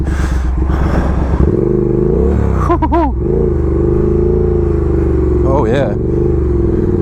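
A Triumph Speed Twin motorcycle rides off-road with a loud, constant engine drone and a couple of rising revs, while a rider briefly exclaims over the noise.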